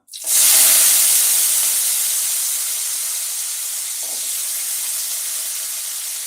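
Peeled small onions and garlic dropped into a hot pan, bursting into a loud, steady hiss and sizzle that starts abruptly and holds strong as it cooks, with no talking.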